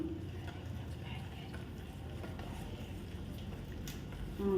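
Quiet stirring of Ugadi pachadi after coarse rock salt goes in, a soft steady scraping and churning with faint background noise and a brief louder knock at the end.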